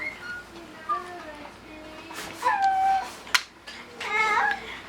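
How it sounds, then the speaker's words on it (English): A young boy singing very loudly in his room down the hall, his wavering, high-pitched, attention-seeking tones coming through in uneven bursts, somewhat distant and muffled. "my son's trying to get everyone's attention by singing very loudly in his room"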